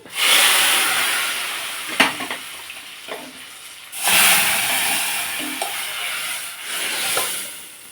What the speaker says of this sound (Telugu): ఇప్పుడు మనం తాలింపు వేసేద్దాం